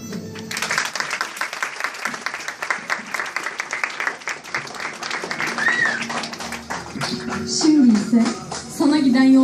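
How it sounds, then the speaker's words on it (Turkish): Audience applause following a Turkish poetry reading, steady clapping from the crowd lasting throughout, with voices and some music or tonal sounds mixed in near the end. "Alkışlıyoruz."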